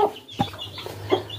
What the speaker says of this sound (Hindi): ये मुर्गी भी अजीब है